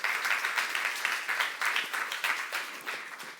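A church youth-service congregation applauds through a sermon, the dense clapping fairly steady across the room and slightly distant, rising and falling in small waves without any voice over it.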